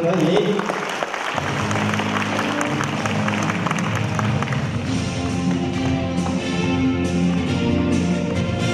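Audience at a stone-appreciation society exhibition opening in Hualien County breaks into steady, dense applause for the society's chairman, a loud crowd of clapping hands sustained for several seconds with a faint voice beneath.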